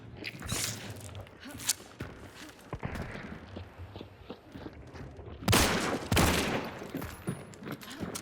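Gunfire in a first-person shooting video game, with bursts of shots and sharp impacts scattered through busy game noise, plus footsteps and louder clustered blasts later on.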